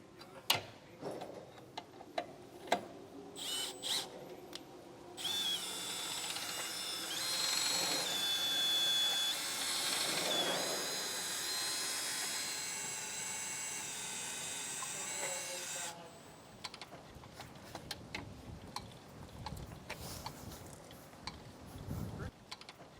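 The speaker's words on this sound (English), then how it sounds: "Now I'm going to be using the drill with this since I am going to be moving a further distance." A power drill drives a Trailer Valet XL chain-drive trailer dolly, whirring steadily for about ten seconds, loud and close, framed by clicks and clunks of handling before and after.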